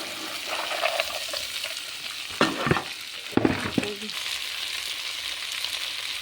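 Guar beans tipped into a hot pan for a desi curry: a burst of sizzling frying with scraping, clattering stirring strokes, loud and close, settling into a steady hiss.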